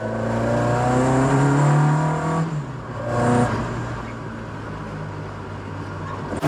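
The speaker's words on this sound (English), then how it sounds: "it definitely sounds more throaty with the AL Developments ported cylinder head" A Mk1 Ford Escort engine with an AL Developments ported cylinder head revs with a throaty, droning tone, holding steady loud for a couple of seconds, then easing off, blipping once more and settling into a lower idle rumble close by.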